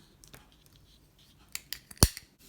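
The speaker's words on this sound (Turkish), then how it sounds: "hemen burada ipimi kesiyorum" Scissors snip crochet thread close by: a few faint clicks lead to a sharp, loud single cut, then quiet.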